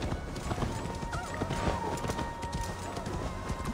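Hoof beats of a horse clop along at a steady pace in Assassin's Creed Valhalla, with a faint whinny over continuous ambient game sound.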